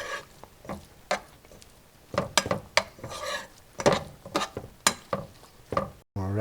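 A spoon mixes saffron into a spoonful of yogurt in a small bowl, giving a series of light scraping and clinking strokes, close and fairly quiet, with short pauses between bursts.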